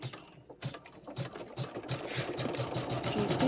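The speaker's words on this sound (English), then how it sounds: "the next part that's going to sew out will be the satin stitch all the way around the bunny" An MC9900 embroidery sewing machine stitches a satin stitch around a bunny design, a steady, fast mechanical thumping close by that builds into a continuous whirring run.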